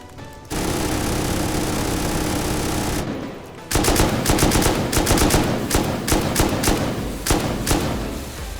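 Gunfire hits a door during a raid in the survival game Rust. A sustained stretch of noise gives way to steady, loud rapid shots with repeated sharp impacts, and no one talks.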